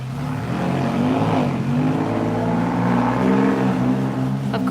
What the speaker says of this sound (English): Of course, that was a Porsche.